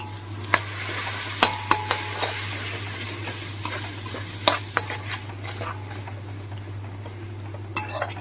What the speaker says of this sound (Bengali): বেশ নেড়ে চেড়ে বেশ কিছুক্ষণ আমি এটা কষিয়ে নেব মশলাটা।